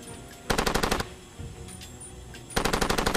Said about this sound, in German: Irgendwas schießt hier.